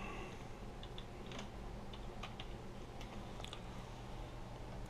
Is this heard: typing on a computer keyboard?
yes